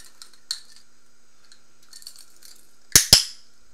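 A loud handheld clicker snaps twice in quick succession near the end, sharp and close, after a few faint rustles and light taps.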